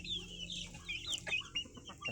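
Hens at a backyard farm cluck and chirp softly in quick irregular bursts, fairly close but quiet, with some low background noise.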